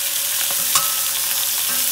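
Fish sizzles steadily in a hot frying pan with oil crackling, and a brief clatter marks it being turned over.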